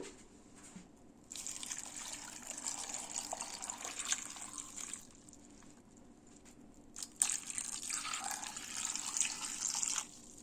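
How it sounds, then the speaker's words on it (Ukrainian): Water runs steadily into a pot of pumpkin porridge in two long pours, a hissing, splashing stream with a short quieter pause between them. "Заливаємо водою."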